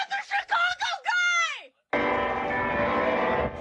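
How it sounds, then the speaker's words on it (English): Church bells at Chicago's Holy Name Cathedral ring out in jubilation for a newly elected pope, a dense sustained peal that begins after a few seconds of excited voices. "Bells tolling in jubilation at Chicago's Holy Name Cathedral."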